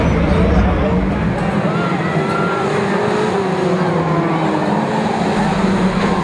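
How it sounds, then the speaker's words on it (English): Saloon stock cars racing on a raceway at the Kings Lynn British Championship, a loud constant roar of many engines droning together with shifting pitch as cars pass, a commentator talking over it. "away we go once more on this one for the Saloon Stock Cars"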